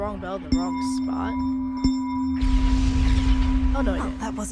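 A bell chimes during a puzzle in the video game Hogwarts Legacy, a single clear ringing tone that sustains over game music before a burst of broad magical noise.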